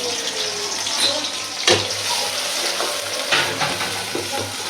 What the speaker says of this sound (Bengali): তো তেল গরম হয়ে গেছে এই যে পেঁয়াজ দিয়ে দিলাম